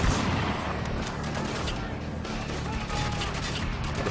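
Sustained automatic gunfire rattles without letup in a Spec Ops: The Line battle, dense loud volleys layered with distant shots and impacts.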